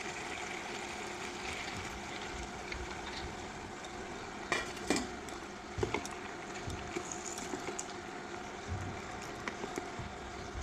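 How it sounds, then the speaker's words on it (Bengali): Soaked sago going into vegetables frying in a pan for a Bengali Ekadashi dish, with a soft continuous sizzle and occasional clinks and scrapes of stirring, fairly quiet and close with no talking. "সবজি প্রায় হয়ে আসছে, এখন ভিজানো এই সাবুগুলো দিয়ে দেবো"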